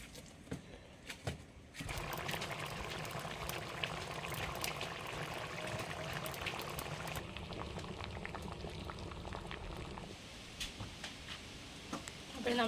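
Cut tapioca pieces washed in water, a faint continuous sloshing and pouring with splashy handling, fairly quiet and unaccompanied by speech.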